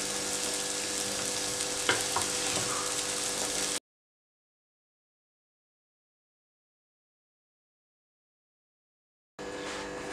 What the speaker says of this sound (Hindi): एक मिनट इसको फ्राई करके मैंने अब इसको निकाल लेना।